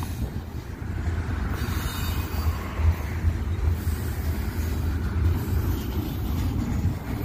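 A Union Pacific freight train hauling intermodal cars, including old Sealand containers, rolls past on a cold September day with a steady, rumbling roar of wheels on rail, constant and fairly close, with no voices.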